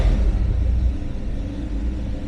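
An older car without power steering, just started with the choke set, running at high idle: a deep, steady engine rumble close by, loudest at first and then settling slightly.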